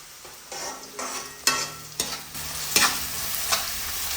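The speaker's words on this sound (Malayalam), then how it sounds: "ദെൻ കുറച്ച് കറിവേപ്പിലയും കൂടി ഇട്ടിട്ട് നമ്മൾ വഴച്ചെടുക്കുന്നുണ്ട്." Onions and curry leaves sautéing in hot oil in a pan for a Kerala crab roast, with a steady soft sizzle broken by several sharp scrapes and clacks of a spoon stirring, close and alone.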